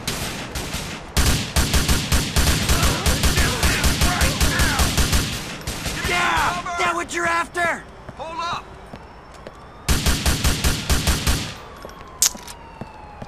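Bursts of rapid automatic gunfire crackle loudly in GTA 4: The Lost and Damned, broken by short pauses, with a rising siren-like wail and engine noise in the middle stretch before the shooting resumes.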